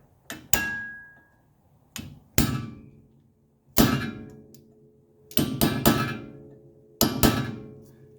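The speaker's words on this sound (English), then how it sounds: "Now we just need to tap those through from the other side. I'll use my punch on this one." Brake pad pins on a 1983 Mercedes 300CD are driven through with a punch: about eight loud, ringing metallic hammer taps, some single and some in quick doubles, close and with no talking.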